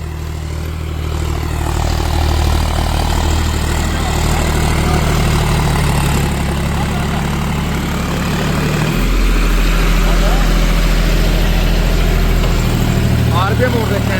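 A John Deere 5105 tractor drives a Maschio 8.5 ft rotavator, its steady low engine drone running close and loud throughout, with the pitch dropping briefly partway through before settling back into a continuous heavy rumble.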